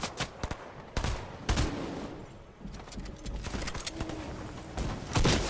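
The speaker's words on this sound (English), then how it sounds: "I just spawned and I immediately got shot at." Gunfire in the video game Fortnite: several sharp shots and short bursts crack out at uneven intervals over a busy game background, with a few louder close reports.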